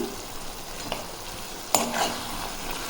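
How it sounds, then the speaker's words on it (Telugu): Tamarind stirred into a tomato-peanut chutney frying in a pan, with a soft steady sizzle, a light clink and a brief scrape of the spoon partway through. "ఇదిగోండి ఈ చింతపండు అయితే దీంట్లో వేసుకుందాము"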